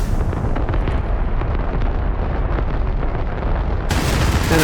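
AGM-154 weapon deploying onto a runway in the DCS flight simulator game, a dense continuous rumbling blast with crackling booms lasting several seconds, loud and close, no talking.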